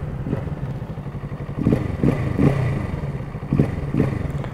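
Kawasaki Z motorcycle with a 48 PS engine rumbling nearby, a steady low burble broken by several rhythmic throttle blips and clattering pulses, with no talking.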